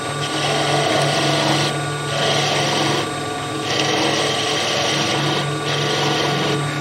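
Wood lathe spinning a workpiece while a skew chisel's long point cuts away waste wood, a steady broadband hiss and scrape under a constant motor hum that swells and eases in repeated passes of about a second or two, close and loud.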